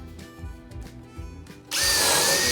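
A power drill bites into wood with one sudden loud, high whine that holds steady to the end, preceded by quieter rustling and handling noises.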